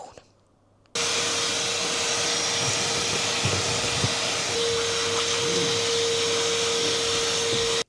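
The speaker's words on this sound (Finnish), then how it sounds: "mä imuroin sen kokonaan" A vacuum cleaner runs steadily on the seat of a Volvo T6, switching on after a brief quiet start and droning loud and continuous with a constant whine, small bumps as the nozzle moves across the upholstery.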